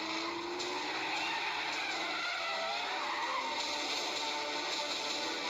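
Several large cars arriving with tires skidding, a loud, continuous squeal and roar that lasts the whole stretch without a break, with no voices.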